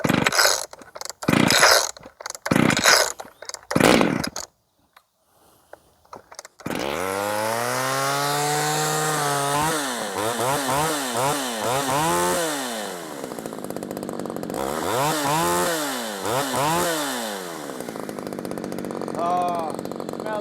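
Old chainsaw with a clone Husqvarna 266 XP carburetor, sputtering in short bursts and pausing before catching and running, then revving up and down in repeated loud sweeps, with some talk early on.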